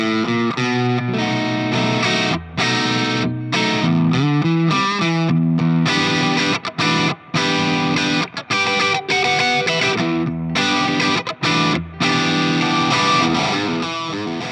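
Heavily overdriven electric guitar through a Marshall 1959 overdrive pedal plays loud chords and riffs with short pauses between phrases, thick and saturated with distortion.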